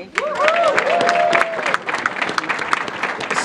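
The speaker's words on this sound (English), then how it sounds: "I want to give you another round of applause." An audience applauds after a call for another round at a New York State affordable housing plan event, sustained dense clapping that stays steady and loud throughout, with a few whistles or cheers riding over it near the start.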